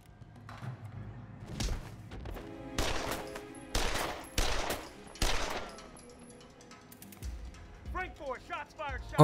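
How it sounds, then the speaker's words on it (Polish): Several loud gunshots crack out in quick bursts and separate volleys close by in a film scene, followed by a voice speaking. "Oddano strzały, ranny funkcjonariusz."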